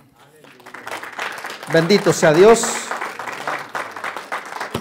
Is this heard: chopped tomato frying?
no